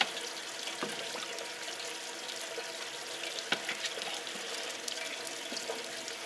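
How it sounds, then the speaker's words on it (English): Water in a Boil Boss shrimp boiler is churned with a paddle, giving a steady wash of sloshing and bubbling with a few sharper splashes and knocks, close and fairly quiet, with no talking. "make sure that I sit here with a paddle or something and just continue to stir this water and agitate it with this thing on"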